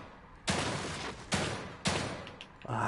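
Three loud, sharp gunshots from the video game The Evil Within 2, each followed by a short decaying tail, spaced roughly evenly and heard alone.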